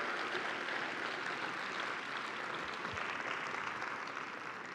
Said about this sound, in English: Can we get a huge round of applause for the surrounding community and Lars for their support?